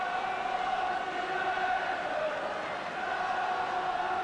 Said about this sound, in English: And the Luton supporters get something to cheer about.